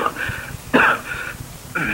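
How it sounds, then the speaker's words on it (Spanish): In a Spanish-language radio drama, a man coughs after gulping whisky too quickly, three rough, harsh bursts in quick succession, close and fairly loud. "Dan tomó whisky tan rápidamente que le produjo tos"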